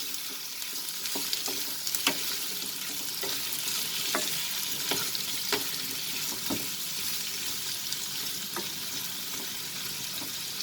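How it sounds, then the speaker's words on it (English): Potatoes fry with ivy gourd in a pan over a medium flame, giving a steady, close broadband sizzle with scattered clicks and scrapes from stirring throughout, and no talking. "we'll let the potatoes get fried in this for 3 minutes."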